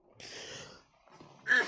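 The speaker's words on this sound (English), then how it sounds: "I have a really intense cough" A person coughs at close range: a raspy, breathy hack, a short pause, then a sharper, louder second cough.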